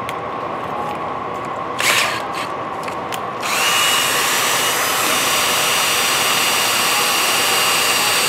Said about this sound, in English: then you're going to use your drill to run it.